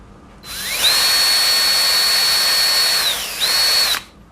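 A Stanley SCH 20 hammer drill, just serviced, runs at speed 2: a loud high motor whine that spins up, holds steady for a couple of seconds, dips briefly, then rises again before stopping.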